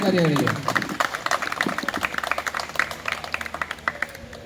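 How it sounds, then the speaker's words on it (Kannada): An audience welcomes honoured photographers with a burst of clapping at a World Photography Day celebration. The applause is dense and close, then breaks into scattered individual claps, with some talk over the start. "ಒಮ್ಮೆಲೆ ಖುಷಿಯಾಗಿ ಚಪ್ಪಾಳೆ ಮುಖಾಂತರ ಸ್ವಾಗತ"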